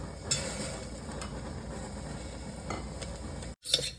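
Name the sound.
rice being sautéed in melted ghee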